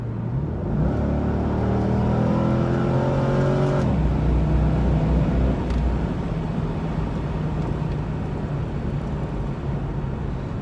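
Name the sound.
C5 Corvette engine with factory exhaust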